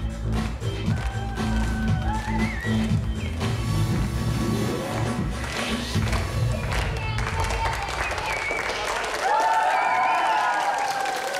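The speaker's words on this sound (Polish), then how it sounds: "Słuchajcie, wielkie brawa dla Oliwii! Zróbcie hałas!" A school audience at a talent show applauds and cheers for a teenage contestant, with clapping and crowd noise mixed under music and some voices, swelling near the end.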